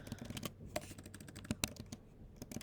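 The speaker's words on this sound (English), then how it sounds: "Let me type that." Someone types on a computer keyboard, a quiet, rapid, irregular patter of key clicks with a few louder taps, close by and alone without speech.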